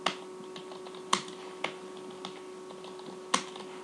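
Keys on a computer keyboard are typed in a sparse, irregular run, with several sharper clicks standing out from the softer taps. The sound is close and clear, with no talking.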